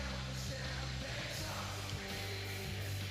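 A wrestling arena crowd in London at a WWE SmackDown show roars continuously, a dense, loud wall of yelling and cheering that swells slightly in places, with no distinct voices standing out.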